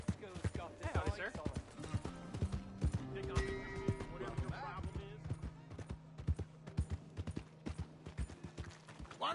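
Horse hooves clip-clop in an irregular trot in Red Dead Redemption 2 on PS4, close and clear, with a brief whinny and voices talking over parts of the sequence.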